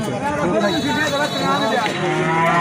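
Cattle low repeatedly at a busy livestock market for Eid sacrifice animals in Lauhati, Tangail, with loud overlapping moos over crowd chatter and people talking nearby.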